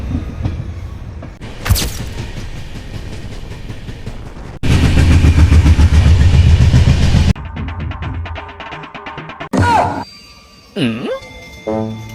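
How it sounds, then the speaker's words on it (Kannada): A train rumbles past loudly with rhythmic clatter of wheels on rails, then fades, followed by scattered nearby noises. "ಆಲ್ರೆಡಿ ಒಂದು ಟ್ರೈನ್ ಹೋಗ್ತಿದೆ ಗೈಸ್"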